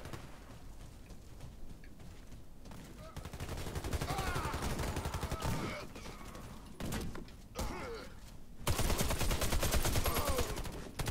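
Rapid bursts of automatic gunfire from a Warface team deathmatch on PS4, sustained and loud with short pauses, building to a dense final volley.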